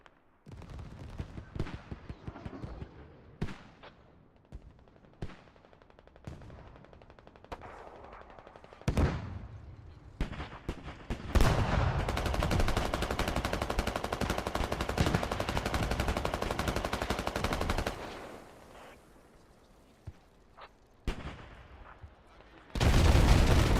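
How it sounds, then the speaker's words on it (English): Airstrike explosions and automatic gunfire in the video game Squad, set at an airfield under attack. Bursts of rifle and machine gun fire come in clusters, with a long sustained roar of heavy blasts in the middle and another loud impact at the end. "So many airstrikes coming in."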